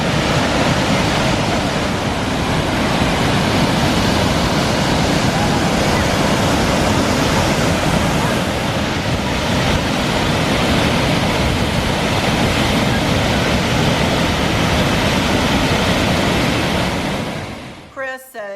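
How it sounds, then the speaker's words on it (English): Nugget Falls, a waterfall near Mendenhall Glacier in Alaska, roaring as a steady, loud broadband rush of falling water that fills the whole stretch, with wind buffeting the microphone and a brief disturbance at the very end. "you can walk over to Nugget Falls, which is a waterfall."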